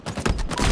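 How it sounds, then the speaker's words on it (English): Rapid automatic weapon fire in Halo Infinite ranked arena, a quick dense burst of loud, close shots. "Oh, I'm shooting him."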